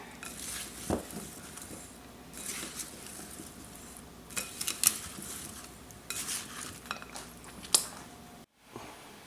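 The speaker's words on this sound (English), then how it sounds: "So, as I'm stirring them up, it'll mix up really, really good." Utensil stirring potatoes, green beans and corn with Tuscany seasoning blend in a pot or pan, close scraping and clinking with irregular louder knocks against the cookware and a soft wet shuffle between them.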